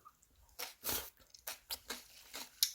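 Bites of crunchy Korean radish salad (mu-saengchae) chewed close up, a series of sharp, crisp crunches with short pauses between them, quiet but distinct.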